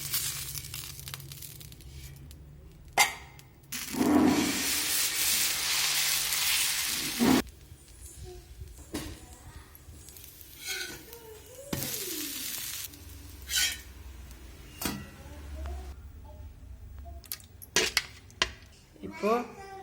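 Mushroom dosa batter is poured onto a pan and cooked, with metal clinks and scrapes of utensils against cookware, bursts of sizzling hiss and scattered clatter, close and fairly quiet.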